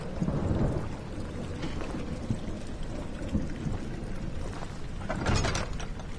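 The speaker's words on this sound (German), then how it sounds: "Gewitter und Regen." Thunderstorm and rain in the horror video game Amnesia: The Dark Descent, a low, continuous rain hiss with rolling thunder rumbles swelling toward the end, fairly faint overall.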